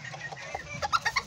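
Hens and a young short-legged rooster on a ranch give a quick series of close clucks, rising into a rhythmic cluster of four or five calls at the end.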